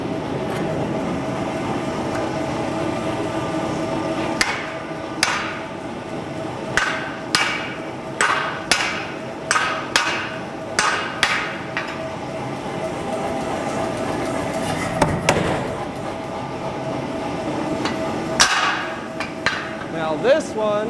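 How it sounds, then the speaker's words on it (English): Repeated heavy metallic hammer blows driving a drift through hot steel while forging a throwing axe ring out in an uneven rhythm over a steady industrial hum, loud and close, with occasional voices between strikes. "I get it started. And then we'll both hammer it through."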